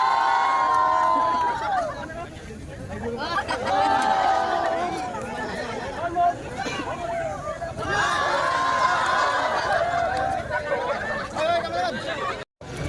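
A crowd of tourists at a port in Dingalan, Aurora, shouts and cheers together in loud, overlapping bursts of voices, mixed with chatter and laughter throughout.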